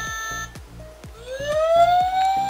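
A Tomica Town toy's electronic police siren wails over a steady, rhythmic pulsing pattern, loud and close, rising into a sustained whooping tone.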